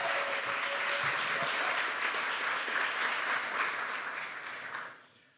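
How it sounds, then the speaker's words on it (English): Conference audience at a public safety plenary applauding, a dense steady roar of clapping that holds for several seconds and then fades out. "give a big round of applause to Justin"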